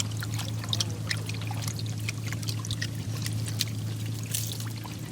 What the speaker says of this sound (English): 30 minutes later, the ice turned into water, and you can drink it, not only crack it.